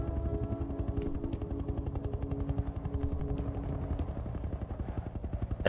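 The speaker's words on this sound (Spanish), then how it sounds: "Ahí viene el helicóptero, perfecto." A helicopter arrives in the shooter game FEAR, its rotor beating in a fast, steady chop with a heavy low engine drone that stays loud and close throughout, with occasional sharp clicks on top.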